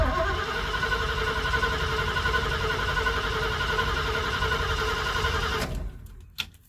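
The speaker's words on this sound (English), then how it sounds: "turn it over nice and smooth, but it doesn't sound like we have spark" A 1973 Jeep Commando with a 304 V8, long sitting, cranks steadily over and over without firing, a smooth continuous churning drone that cuts off abruptly near the end, followed by a brief clunk.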